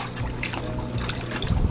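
Water gurgles and trickles through a hose dropped into a large office fish tank as it fills, a soft, continuous bubbling burble close by.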